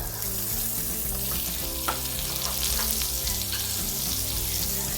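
Browned garlic and blanched onion fry in butter in a pan for pork chops, a loud, steady close sizzle with faint stirring and no talk.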